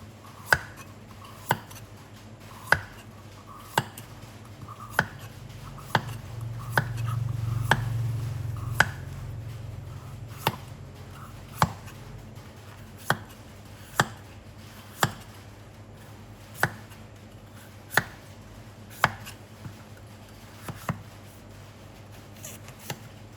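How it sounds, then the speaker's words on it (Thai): A knife chops through peeled, washed papaya on a cutting board in steady, evenly spaced sharp knocks, about twenty strokes, close and clear with a low hum beneath and no talking. "จากนั้นก็จะมาหั่นมะละกอค่ะ ปอกเปลือกแล้วก็ล้าง"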